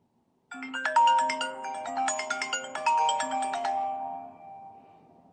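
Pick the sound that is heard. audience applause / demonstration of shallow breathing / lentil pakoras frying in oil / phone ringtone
phone ringtone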